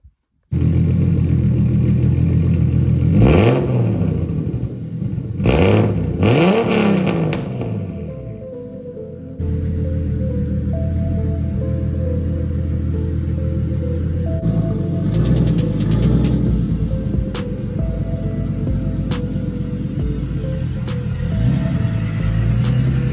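A damaged Hemi V8 engine running without cylinder heads roars loudly and close, with rising and falling revs, rough clattering, and sharp metallic rattles toward the end.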